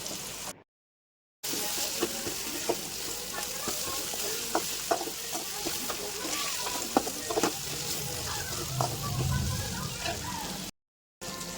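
Spiced potato filling with turmeric stirred in a frying pan, a steady crackling sizzle with repeated light scrapes of the spoon, close and continuous apart from a brief silent gap near each end.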